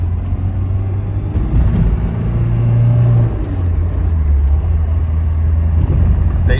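A 1991 Alfa Romeo Spider engine drones steadily while driving, the pitch shifting with an upshift midway, heard from inside the cabin as a loud, continuous rumble with road noise.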